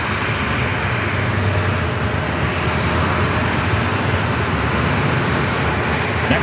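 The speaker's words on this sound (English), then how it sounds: "This Alaska flight heading to Seattle, 737 at 900 ER, next up for takeoff" Alaska Airlines Boeing 737-900ER bound for Seattle taking off at San Diego airport, its jet engines a loud, steady broadband roar that holds constant throughout with no voices.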